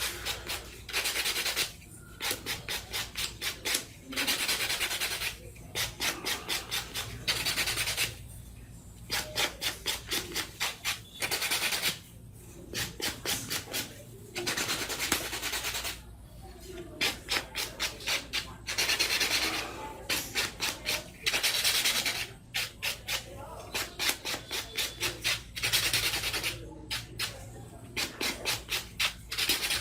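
Rapid rhythmic rubbing strokes come in bursts with short pauses between them, a dry, raspy back-and-forth scraping close by.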